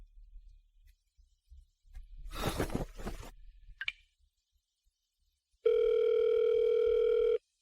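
A telephone call ringing tone sounds near the end as one steady, loud electronic tone that holds for about two seconds, after some rustling and a brief burst of activity earlier on.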